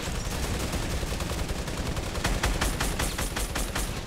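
Rapid bursts of gunfire from Fortnite Battle Royale crackle in quick repeated volleys, growing sharper and denser toward the end, loud and with no talking over them.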